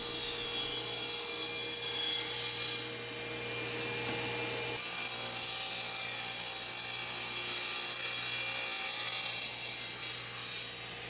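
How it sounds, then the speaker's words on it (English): Steady continuous sawing through a leftover piece of purpleheart wood, cutting it into an octagon for an end cap; a constant rasping machine whine with a brief change in tone midway, loud and close with no talk. "she's taken a piece of purple heart that was left over from the vise body and cutting it first into an octagon"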